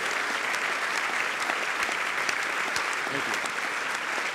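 Sustained audience applause welcoming a lecturer at a distinguished economics lecture, a dense even clapping from a large hall crowd, with a brief spoken thanks near the end.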